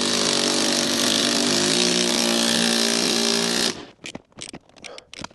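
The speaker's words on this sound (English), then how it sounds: "let's hit it with the impact, just because, yeah, it's a lot quicker than the ratchet" An impact wrench driving a steering wheel puller on a C5 Corvette, a loud, continuous, buzzing hammer run for several seconds, then a few short, sharp bursts with brief gaps between them.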